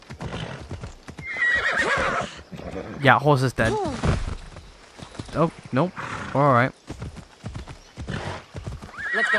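Horse in Assassin's Creed Odyssey galloping over a steep mountain trail, hooves clip-clopping steadily while it whinnies loudly several times, with someone talking over it.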